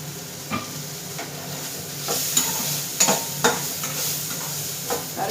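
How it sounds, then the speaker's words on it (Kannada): Turmeric frying and being stirred in a pan, a steady close sizzle with scraping stirs and occasional sharp clinks of the utensil against the pan, no talking. "ಇಷ್ಟು ಹುರ್ಕೋಬೇಕು, ನೀಟಾಗಿ ಹುರಿಬೇಕು."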